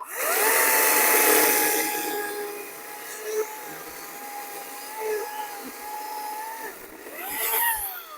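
An Aspire C15X-P4A battery chainsaw cuts through a fallen tree under its own weight: a steady high electric whine that dips as the chain bites, rising again near the end, close and continuous.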